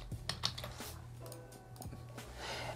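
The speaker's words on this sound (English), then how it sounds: "so I'm gonna go ahead and type that in." Keys on a computer keyboard are typed in a quick, uneven run of soft, close clicks over a low background hum.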